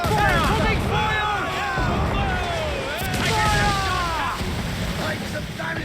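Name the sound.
ship cannon fire in Assassin's Creed IV Black Flag video game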